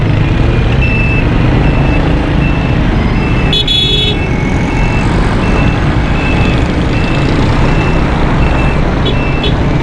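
Heavy traffic crawls along Shahrah-e-Faisal past roadside drain construction, with a concrete mixer on site. A dense engine rumble fills the street, repeated reversing beeps chirp steadily, and a sharp horn toot cuts through close by midway.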